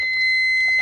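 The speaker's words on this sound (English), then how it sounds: "I think this is a non-standard alarm." An aftermarket electronic alarm in an 80s Ford car emits a steady, piercing high-pitched tone that holds continuously for under a second, close and loud.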